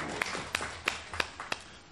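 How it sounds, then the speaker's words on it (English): Farmers at a seed systems gathering clap in unison, five sharp evenly spaced beats about a third of a second apart, close and fairly faint. "I want us to first of all clap for ourselves for being the first"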